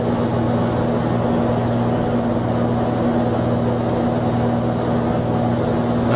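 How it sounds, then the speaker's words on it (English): A small airplane engine drones steadily during a flight from Santa Monica to Livermore, a loud, even hum with a constant low pitch and no breaks, heard from inside the cabin. "how's that engine sound now, Ron?"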